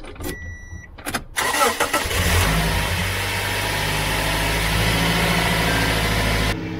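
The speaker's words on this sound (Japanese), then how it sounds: "この状態でエンジンをかけてみたいと思います。" A car engine, in a vehicle just fitted with a lithium-ion camping battery, cranks briefly with a few starter clicks, then catches and settles into a loud, steady close idle before cutting off.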